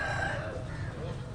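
Chickens packed together at a street market stall in Islamabad, clucking and squawking in a dense, continuous chorus with a crowing tone over steady crowd noise.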